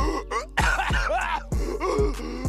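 Several harsh coughs in a row, close and loud, with heavy chesty bursts and gasping breaths between them.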